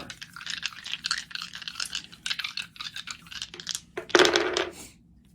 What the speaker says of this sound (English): So that's what I'm dropping the dice for.